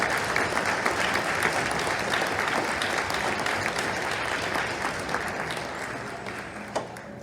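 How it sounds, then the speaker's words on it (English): A football banquet audience gives the coaches a round of applause, dense sustained clapping from a large crowd that fills the room and fades slightly toward the end. "round of applause."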